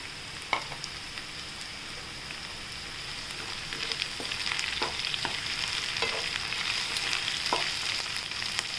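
Carrots tipped into a hot oiled pan for green masala poha sizzle steadily, with soft scraping stirs and a few sharp spatula clicks over a continuous frying hiss that grows slightly louder midway.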